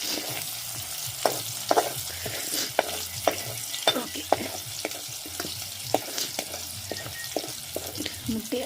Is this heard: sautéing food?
yes